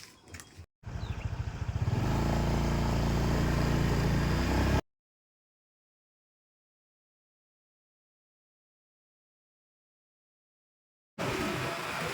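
Borrowed motorcycle heading out on a ride, its engine loud and steady for several seconds up close after a brief start, then cutting to silence before resuming near the end.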